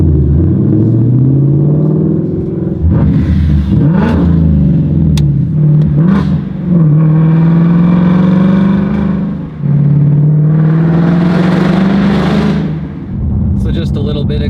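A 2018 Ford Mustang GT V8 with a muffler delete exhaust revs loudly and close, its rumbling engine rising and falling in several throttle blips over a steady growl, with a voice talking over it.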